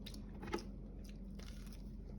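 Someone bites and chews a mango and banana snack, faint soft chewing and squishy mouth sounds with one slightly sharper bite, quiet and close over a low background hum.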